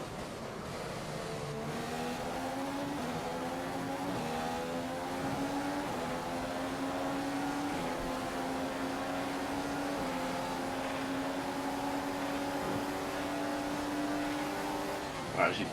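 A Formula 1 racing car in a video game, its engine whining steadily at high revs with brief dips and climbs through gear changes, loud and continuous, while someone talks over it.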